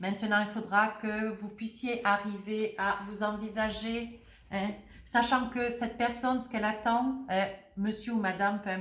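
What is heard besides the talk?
No distinct noise like a dog, phone or traffic.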